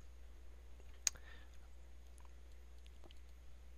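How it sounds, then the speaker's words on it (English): A single crisp computer mouse click, close and fairly faint, with otherwise quiet background hum and no talking. "To see that, you just click here."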